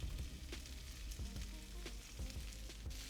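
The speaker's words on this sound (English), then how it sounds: "And keep stir frying." Beef, garlic and vegetables stir-fry in a hot pan, with a constant loud sizzle broken by repeated scraping and clacking strokes as the food is tossed.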